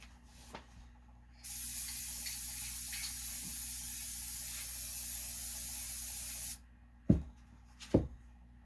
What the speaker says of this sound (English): I will go on ahead and spray my other cup.